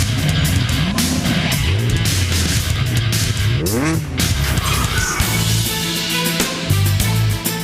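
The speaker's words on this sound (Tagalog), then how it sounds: "Yung tambucho Pinapaingay." A car with a loud modified exhaust muffler revs hard, its engine note sweeping up and down over continuous roaring, tire-squeal-like noise and music-like background, loud and close throughout.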